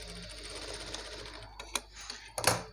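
A domestic sewing machine runs a top stitch along a panjabi dress pant, its steady low motor hum broken by a few short, sharper bursts of needle clatter toward the end, close and fairly quiet.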